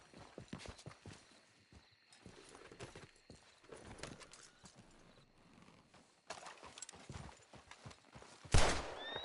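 In Red Dead on PS4, a horse's hooves beat a fast, steady clip-clop as it gallops. The rhythm pauses briefly, picks up again, and ends with a sudden loud burst of noise.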